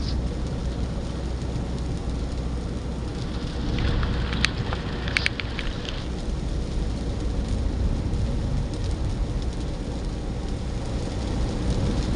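Heavy rain pours down steadily in a dense, continuous hiss, with a few sharper drops or clatters rising briefly midway.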